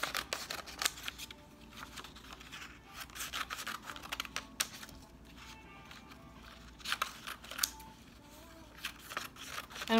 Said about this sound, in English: I'm going to try to cut out pieces of paper